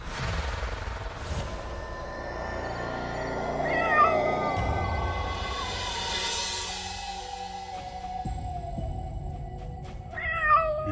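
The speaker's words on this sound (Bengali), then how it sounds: "হঠাৎ শুনতে পেল বিড়ালের ডাক" A cartoon cat meows repeatedly at night in drawn-out, wavering cries amid a noisy background, with a louder wail near the middle and short calls at the end.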